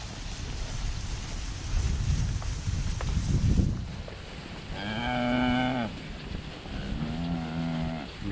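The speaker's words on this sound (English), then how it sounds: "Come on, cows." Cows on a farm moo twice, long and loud, in close succession, after a few seconds of rumbling, rain-like background noise outdoors.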